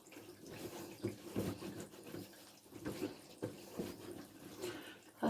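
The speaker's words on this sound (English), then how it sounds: "then you have to wash your hands" Tap water runs steadily into a sink while hands are washed after applying a peel-off face mask, with splashing and rinsing sounds throughout and some faint speech in the background.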